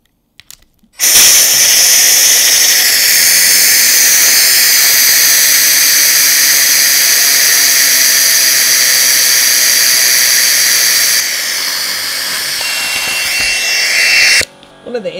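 A small Tesla vortex style turbine spins at high RPM, about 17,000, giving a loud, piercing, sustained whine close up that holds steady for over ten seconds, dips slightly near the end, then cuts off abruptly.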